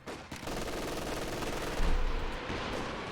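An MG42 machine gun fires in the Company of Heroes 2 strategy game, a quiet, steady rattle of rapid shots lasting a few seconds, with a couple of heavier thumps mixed into the burst.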